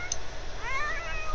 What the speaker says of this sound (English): A sick cat.